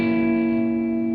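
A seventh chord voicing rings out on an instrument as one sustained, steady chord with rich overtones, held for just over a second with no talking.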